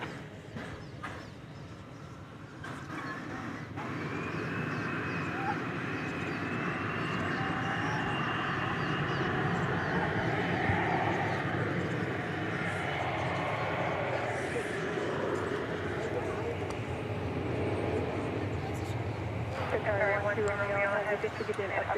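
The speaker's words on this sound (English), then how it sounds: "take a look at Turkish flight 191 coming in from Istanbul" Turkish Airlines flight 191 from Istanbul arriving at DFW Airport, a broad jet engine roar swelling and holding steady as it approaches, with a person talking over it and radio chatter near the end.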